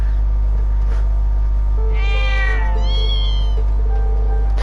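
A mother cat meows in the video game Trails of Cold Steel 2: two clear, drawn-out meows in succession, rising and falling, heard over a steady low in-game hum.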